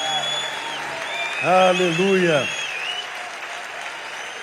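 A church congregation at a missions symposium claps steadily throughout, with a loud voice calling out over the applause midway.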